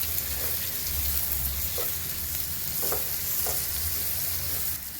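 Onions and tomatoes sizzle steadily in a pan for a seeme badnekai palya while a utensil stirs them, with scraping strokes over the constant frying hiss, close and clear, and no talking.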